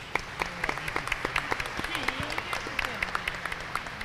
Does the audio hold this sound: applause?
yes